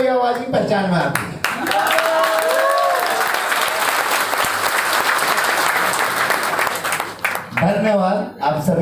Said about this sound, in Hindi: मुझे केवल ताली वाली आवाज ही पहचान में आती है।